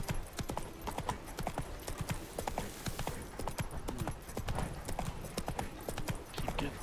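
Roach, the horse in the video game The Witcher III, gallops with a fast, steady clip-clop of hooves that runs loud and close throughout, over a busy outdoor ambience, with no talk.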